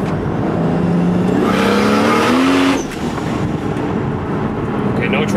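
A Toyota Supra's engine roars loudly in third gear as the car accelerates hard with wheels losing traction, pitch climbing steadily before a brief dip and continued strong revving, close and dominant throughout.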